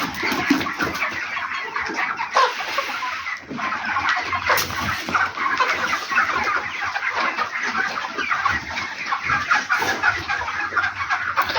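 Broiler chickens on a poultry farm cluck and chatter continuously in a dense, busy flock, with many overlapping calls close by and no pauses.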